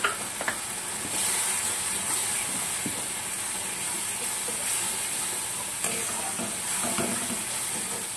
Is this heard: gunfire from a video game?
no